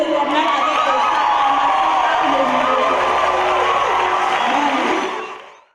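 A congregation cheers and shouts with joy during a live church service broadcast, a loud sustained crowd roar of whoops and cries with voices mixed throughout, fading out at the end.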